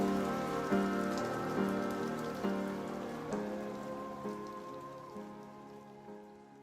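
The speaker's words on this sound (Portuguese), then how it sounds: "a chuva, antes intensa, transformará-se em uma garoa fina e desagradável" Fine rain patters steadily on a surface, a soft dense hiss with faint droplet ticks and a few gentle pulses, slowly fading quieter as it eases toward drizzle.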